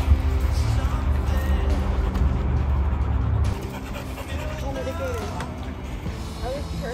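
A dog panting steadily with faint whimpers and whines on an outdoor RV trip beside water, heard close over a constant low rumble of vehicle or engine noise.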